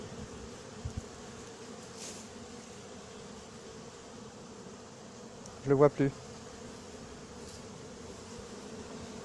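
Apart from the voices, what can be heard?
many bees buzzing around a hive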